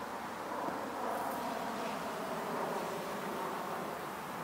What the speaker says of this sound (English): I believe this hive is the one that's robbing this hive.